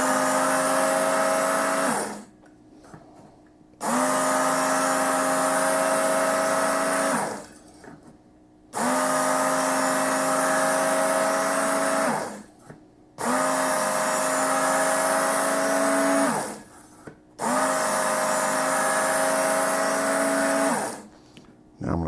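A powered knife sharpener grinds a dull knife blade along an angle guide in five loud passes of a few seconds each, broken by short pauses. A steady whine holds under each pass.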